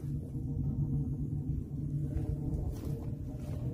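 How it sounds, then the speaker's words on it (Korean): Wood fire roaring steadily inside a small homemade stove built from a mini gas cylinder, burning logs at a campsite, giving a continuous low rumbling whoosh up close with no pauses. "아, 소리 들리시죠? 소리, 이 불소리."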